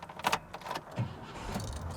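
1999 Chevrolet Suburban 1500 being started with a key: a few quick clicks and jangles, then the engine cranks and catches into a low, quiet idle, all fairly faint.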